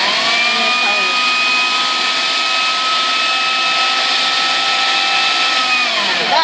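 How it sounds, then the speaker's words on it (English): A blender whizzes half a can of chopped tomatoes smooth for a cauliflower curry, a loud steady high whine holding constant for about six seconds before winding down at the end. "I still like to whiz them up at half a can of tomatoes so they're as smooth as can be"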